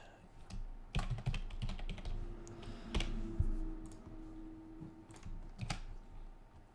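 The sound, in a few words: fast typing on a computer keyboard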